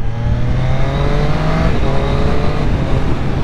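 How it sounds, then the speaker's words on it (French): A 2021 Triumph 765 RS motorcycle accelerating hard, its engine roaring loud and close, then a quick quickshifter upshift midway that drops the pitch before it climbs again. "On va pouvoir mettre un petit coup de shifter pour votre plus grand plaisir"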